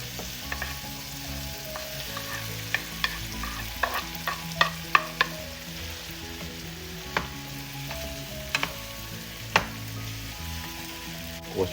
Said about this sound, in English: Now we can add our ground pork here.